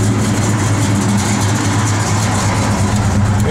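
A 1969 Plymouth Road Runner engine runs at a steady idle, loud and close, with a deep continuous low rumble and no talking.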